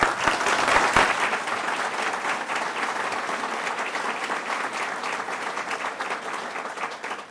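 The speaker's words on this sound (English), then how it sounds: "A reminder on the applause" Audience applause at a televised debate for Ohio's 16th Congressional District, steady dense clapping that swells at the start and holds evenly for about seven seconds with no talk.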